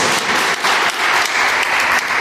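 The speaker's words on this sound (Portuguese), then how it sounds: "Aplauda o nosso Senhor nessa noite bem forte, em nome de Jesus" A church congregation applauds loudly and steadily during an evening worship service, dense clapping filling the whole stretch with slight surges in intensity.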